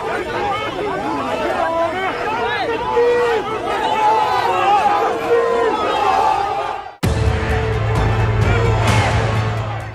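Agitated crowd of protesters outside a Hindu temple in the UK with police pushing them back: dense, loud babble of many shouting voices, continuous throughout with a brief cut midway.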